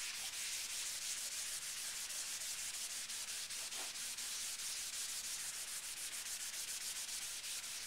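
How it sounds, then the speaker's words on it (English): Fingers or a tool rub across charcoal shading on paper in a potato still life drawing, a soft, continuous, faint hiss of friction with no distinct strokes standing out. "if I rub it like this, I'm smoothing out the tonality"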